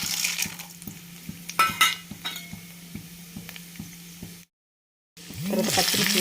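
Mustard seeds, cumin and chana dal temper in hot oil with light crackling and popping, mixed with metal utensil clinks and stirring scrapes against the pan, close by, before a brief silent break.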